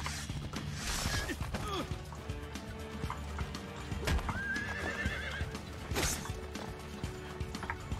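A horse in Assassin's Creed II whinnies twice, with clip-clopping hooves and scattered game ambience around it, heard at moderate loudness across several seconds without speech.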